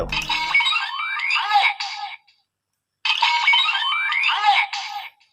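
Two loud bursts of a Kamen Rider Revice DX transformation belt's electronic sound effect, bright warbling beeps and sweeping tones, each about two seconds long and separated by a short silence.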